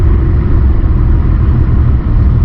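Inside a Ford Mustang 4.0 V6 while driving, a loud, steady low rumble from the engine with a faintly lumpy idle chop running the whole time.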